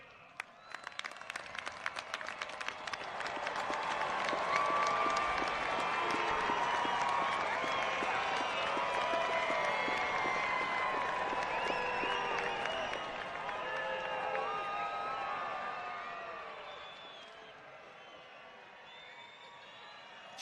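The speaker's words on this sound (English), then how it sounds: "give a round of applause to your families" Graduating Air Force Academy cadets at a commencement ceremony burst into sustained applause for their families, a dense roar of clapping with scattered whoops from a large crowd that holds steady before tapering off.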